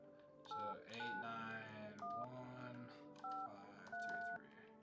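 A telephone keypad dials a number for a phone roulette line, a rapid sequence of short dual-tone beeps in uneven groups, heard over a steady background of music and voices.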